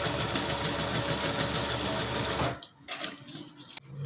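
Sewing machine stitching a seam on pant-style trousers: a steady, fast mechanical whir running close and loud for a few seconds, then stopping abruptly, leaving faint handling clicks and rustles.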